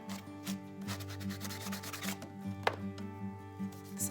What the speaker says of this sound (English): get it wet, and then go over it with the sanding block